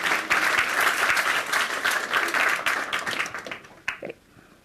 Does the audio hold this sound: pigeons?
no